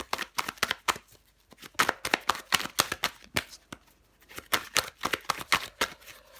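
Tarot cards being shuffled and handled up close, a rapid run of crisp flicking and riffling snaps in steady bursts with no talk.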